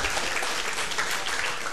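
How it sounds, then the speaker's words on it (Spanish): A church congregation breaks into strong, steady applause that fills the space evenly and continues without a break, with no voices over it. "Démosle un fuerte aplauso a nuestro Dios."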